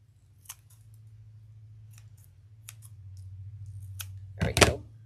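Scissors trim ribbon while a ribbon angel ornament is crafted: several light snips and clicks scattered across the clip, ending in a louder, quick double cut up close, over a low steady hum.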